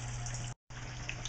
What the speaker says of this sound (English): The tray is filled up with just a small level of water, enough to give the seedlings a drink.